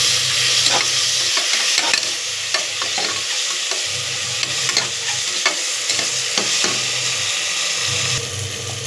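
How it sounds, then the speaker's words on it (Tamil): Onions sautéing for a biryani in a pan, a steady close sizzle broken by repeated scraping stirs, with no voices. "வெங்காயம் நல்லா வதங்கிடுச்சு."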